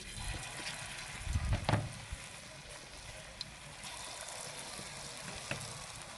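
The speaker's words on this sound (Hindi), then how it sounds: "अब हम और पकोड़े इसमें डालेंगे।" Potato pakoras deep-frying in hot oil, with a loud bubbling burst as fresh batches go in, then a softer, steady sizzle that continues with a few small clinks.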